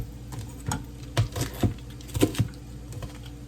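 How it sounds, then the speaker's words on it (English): A knife chops through cabbage into strips on a cutting board, producing a quick run of soft, crisp taps and crunches at close range, fairly quiet and without speech. "Cut this up all nice and neat here."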